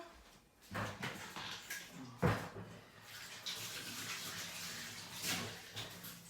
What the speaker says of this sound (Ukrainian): Миємо руки завжди як після яйця, чомусь привикла мити руки.